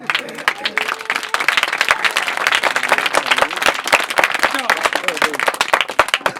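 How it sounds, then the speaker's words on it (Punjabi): A Christmas church congregation gives a big round of applause, loud, dense clapping with sharp individual claps standing out, steady and close for the full stretch. "ਵੱਡੀ ਗੱਲ ਤੇ ਵੱਡੀ ਤਾਲੀ ਹੋਣੀ ਚਾਹੀਦੀ ਹੈ"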